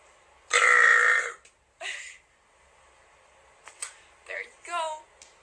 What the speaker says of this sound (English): last burp, please